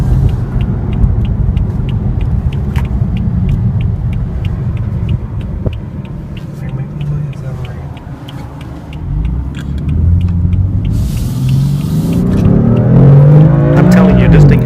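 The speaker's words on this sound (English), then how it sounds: "let's make a turn here and we'll see how it will accelerate one more time." Engine of a 2015 BMW M3 sedan pulling hard under acceleration, a loud steady rumble that swells and rises in pitch toward the end, heard from inside the car with no talk.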